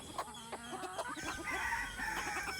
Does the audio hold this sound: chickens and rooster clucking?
yes